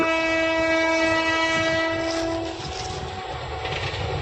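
A train rolls past with a steady rumble and a sustained horn, loud and close, fading slightly toward the end.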